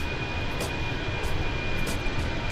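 Airbus A320 engine heard from the cabin on an Air France flight from Paris to Naples, a loud, steady broadband roar with a faint whine that holds constant throughout.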